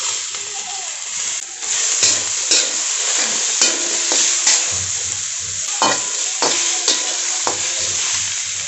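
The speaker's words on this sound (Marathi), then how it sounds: "याच्यामध्ये टोमॅटो टाकून घेऊयात" Tomatoes sizzle and are stirred into a dhaba-style cashew and onion gravy for a green peas curry, with loud close frying and repeated scraping stirs of a spoon in the pan, and no talking.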